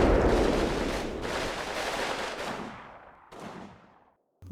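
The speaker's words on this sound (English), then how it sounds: "they're also beginning to engage the machine gun in the centre" Machine gun fire in the video game Combat Mission: Stalingrad, loud bursts and booming reports that roll and fade, followed by a final short burst after a brief gap.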